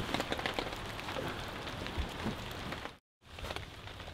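Steady rain patters on a tent at a fall campsite during days of storms, a dense, even hiss with scattered drop taps that cuts out briefly near the end.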